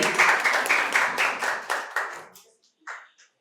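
An audience at a quiz competition in a medical college applauds with dense, close hand clapping for over two seconds, thinning to a few last claps as it dies away.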